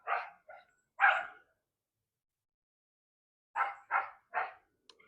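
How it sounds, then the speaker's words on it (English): Small dogs barking in a backyard garden in the city: a quick cluster of three sharp barks, a pause of silence, then another burst of three or four yappy barks, fairly close and with no talk. "You hear the little crackhead dogs back here barking."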